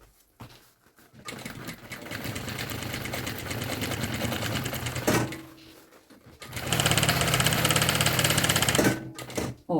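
A sewing machine topstitches the side seam of a pink travel bag with swivel wheels, running in two loud, steady close bursts separated by a short pause, with no talk.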